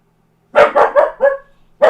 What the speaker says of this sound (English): Oh, there's Max barking.